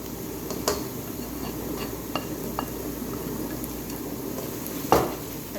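Whole spices being stirred and cooked in a pot for mutton paya curry, a low steady sizzle with a few scattered clinks of a spoon against metal and one sharper knock near the end.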